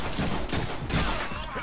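Rapid gunfire bursts from a combo attack in the Deadpool video game, two dense clusters of loud overlapping shots in quick succession, busy game sound with no clear talk.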